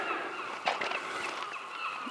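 Seabirds call along the Bow Fiddle Rock coast, a few honking, goose-like cries over a quiet outdoor background, with no talk.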